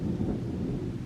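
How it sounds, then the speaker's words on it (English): Low rumbling thunder rolls through a thunderstorm outside a home, a steady deep grumble with a faint hiss of rain filling the short moment, no voices over it. "you hear that thunder?"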